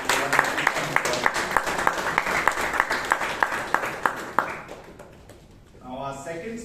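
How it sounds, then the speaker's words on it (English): Audience applause at a Toastmasters club meeting in Bangalore, a crisp, rhythmic round of clapping with distinct regular beats that fades out, followed by a voice speaking briefly at the end. "please give a huge round of applause to"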